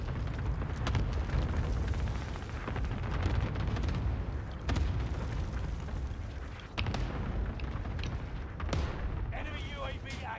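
Cluster airstrike in Call of Duty: Warzone: a continuous, heavy rumble of overlapping explosions with sharp blasts breaking through, loud and sustained, with radio-style game voices over it.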